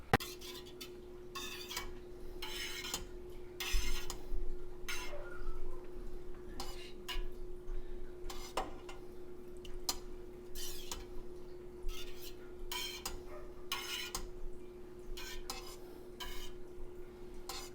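Milk curds stirred in a pot during Gouda cheese making, with a spoon producing repeated rhythmic scraping and sloshing strokes over a low steady hum, close and moderately loud.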